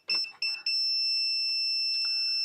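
A continuity tester beeps while wiring is checked on an Atari 130XE fitted with a VBXE board, giving a steady, loud, high-pitched tone that sounds continuously after a few brief clicks and knocks.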